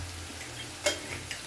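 Ground spice mix sizzles in hot oil with onions for a potato, pea and paneer ghugni, a steady low fry with a sharp stirring scrape and a lighter knock near the end.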